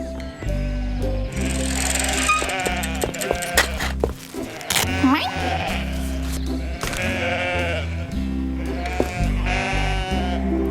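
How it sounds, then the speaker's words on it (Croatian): A large flock of sheep bleats repeatedly in overlapping calls over a steady music bed in an animated children's cartoon. "Kako ću se samo probiti kroz ovoliko ovaca?"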